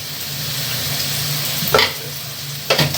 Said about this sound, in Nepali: अब चलाउने हो